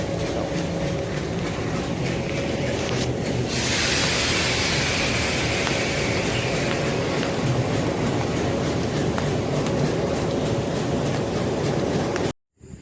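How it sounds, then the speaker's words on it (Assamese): A train moves through Lakhimpur railway station with a loud, continuous rumble and clatter of wheels on rails, steady throughout before ending suddenly. "এইখন ট্ৰেইনখনটো গৈ আছে"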